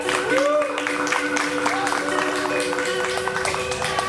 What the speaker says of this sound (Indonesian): Boleh minta tepuk tangannya buat panitia.